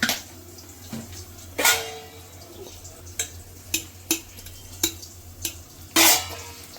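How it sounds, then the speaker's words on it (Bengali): Hilsa fish pieces being worked together with salt, turmeric and spice paste in a bowl, heard as scattered soft clinks and wet squelching knocks at an uneven pace, close by with no talking. "এবার এটাকে ভালো করে মাখিয়ে নেব, নুন হলুদ এটা দিয়ে মশলাটা"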